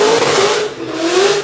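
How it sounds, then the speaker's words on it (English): Cars rev engines loudly at a local street car meet, a close, sustained revving with rising and falling pitch under no talk. "there's still a bunch of cars revving and two-stepping."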